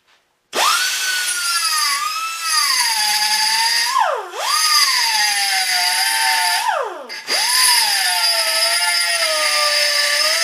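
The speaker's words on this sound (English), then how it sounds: "Just moving to a thicker grinding wheel." A power grinder with a thick grinding wheel whines loudly and steadily close by while working on a fuel tank, its pitch dropping and recovering twice as the wheel bites into the work, then spinning back up.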